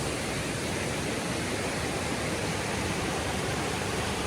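A high-running mountain creek swollen after heavy rain rushes in a dense, unbroken roar, loud and close, filling the whole stretch with no voices.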